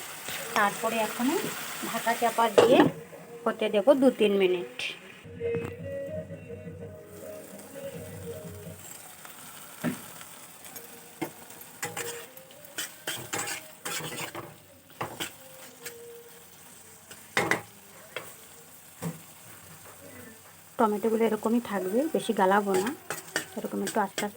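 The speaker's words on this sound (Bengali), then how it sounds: "টমেটোর সাথে ভালো করে মশলাটাকে লাগিয়ে" Spices and chopped tomato fry for a rohu fish curry, sizzling softly as a spatula stirs and scrapes the pan, with scattered clinks. Quiet speech is heard at the start and end.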